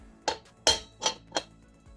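Four sharp metallic hammer strikes on a drift, knocking out a wheel bearing on a Suzuki Hayabusa motorcycle, irregularly spaced and close by with no talk.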